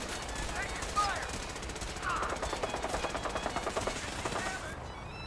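Fallout 4 gunfire rattles in rapid, regular automatic bursts, fairly faint and steady, with brief voice-like game effects mixed in.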